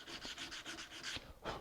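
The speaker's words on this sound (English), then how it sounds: "It's a good time to start your sanding now while it's being held down" Rhythmic rasping strokes of 100-grit sandpaper on a hardwood carved letter opener, about seven back-and-forth passes in quick succession, close and steady, with a brief pause near the end.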